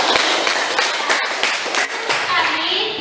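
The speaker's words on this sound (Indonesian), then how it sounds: "Tepuk tangan untuk teman-teman." A group of schoolchildren claps for classmates after a class presentation, close lively clapping with individual hand claps standing out and children's voices mixed in.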